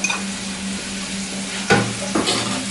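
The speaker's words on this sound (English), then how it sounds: "We'll throw the mushrooms in." Mushrooms sautéing in butter in a pan after the chicken, a steady sizzle with a low hum underneath and two louder bursts as the pieces are stirred or tossed.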